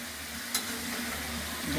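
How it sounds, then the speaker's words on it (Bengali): Ash gourd and prawns sizzle in a pan while being stirred, a steady close hiss with one brief sharp scrape of the utensil early on. "নেড়ে ঢেকে দেবো এবার কিছুটা নাড়াচাড়া করে ঢেকে রাখবো"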